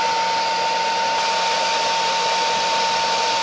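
An induction furnace coil heats a graphite crucible with a steady, loud electrical hum and broadband hiss that holds unchanged throughout, with no talking.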